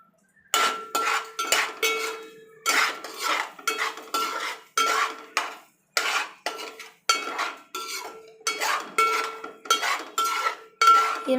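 A metal spoon stirs egg rice with curry leaves in a pan, giving bright, close clinks and scrapes. They come in steady rhythmic bursts, about one per second, with no talking.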